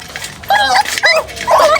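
A puppy yips and barks in three short, high-pitched bursts, close and loud, with brief pauses between them.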